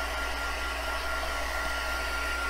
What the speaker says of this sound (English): let's use the heat tool to just finish that up